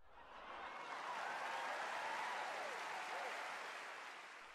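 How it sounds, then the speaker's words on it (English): Recorded applause played back from a tape in a children's animated comedy scene, a dense, steady wash of clapping that swells and fades over several seconds, with no speech over it. "Larry, those people weren't really clapping for you or laughing at your jokes. They're just sounds on a tape."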